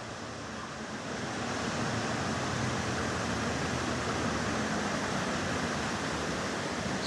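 Wind blowing at a fishing lake, a steady broadband rush that rises slightly after the first second and holds constant and fairly loud, with no voices.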